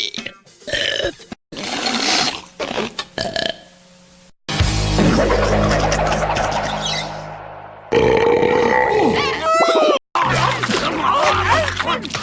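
A compilation of female cartoon characters burping, each a loud, close, gurgling belch of varying length, several cut back to back with brief silences between them.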